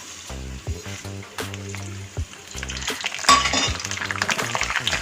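Urad dal and mustard seeds frying in hot oil, a steady close sizzle broken by stirring scrapes and clinks of a utensil against the pan, growing busier toward the end.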